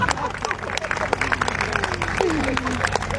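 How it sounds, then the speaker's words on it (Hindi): Applause and clapping rise from a live poetry audience, mixed with crowd murmur and a voice speaking over it, moderately loud and irregular. "बजाओ ताली।"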